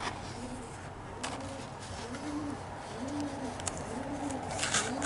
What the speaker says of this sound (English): Pigeon landing on the balcony.